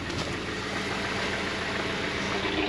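A steady, rough pickup truck engine drone rumbles continuously at a constant level, low and unvarying throughout.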